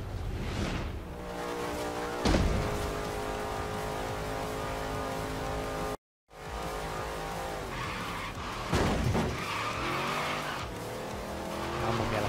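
A kart in the video game Forza Horizon 3 revs its engine continuously while its tyres squeal and skid, with the whine rising and falling and a brief dropout midway.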